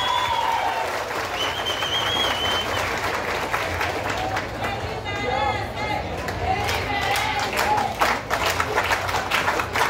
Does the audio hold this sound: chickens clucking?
no